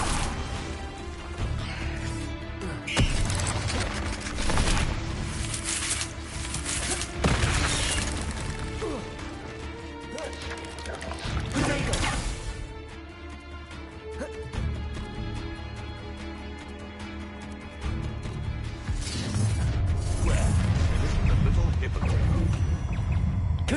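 Hogwarts Legacy duel with repeated Confringo blasting-curse explosions, booms and crashing impacts layered over battle noise and music, with voices talking throughout.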